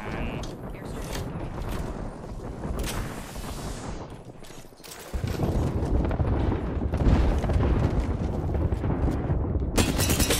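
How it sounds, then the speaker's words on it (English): Airstrike explosions in a video game: sustained heavy booms and crackling blasts, with a dense rumbling barrage that grows louder and thicker after five seconds, close and continuous with no pauses. "Airstrike incoming."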